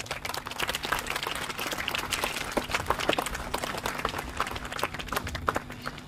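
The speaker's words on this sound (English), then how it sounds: "One more time, please applause for all these students for their good work." An audience at a school morning assembly for World Science Day applauds students, a sustained, crowded patter of many hands clapping that holds steady from start to finish.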